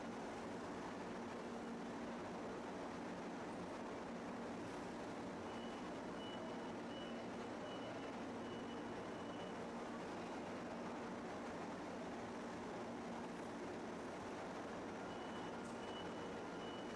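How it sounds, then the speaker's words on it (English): Forklifts work in an industrial setting, a faint repeating reversing beep sounding over a steady low hum of machinery, quiet and somewhat distant. "Let's take a look at a few examples of forklifts in operation"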